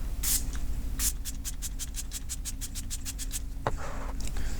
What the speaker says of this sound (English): This is the Catrice Prime and Fine Dewy Spray.